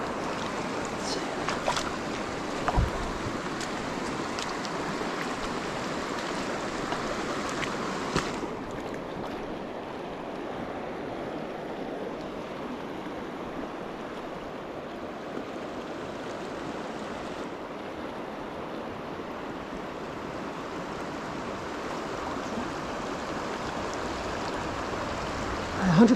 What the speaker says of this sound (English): the water's moving pretty quick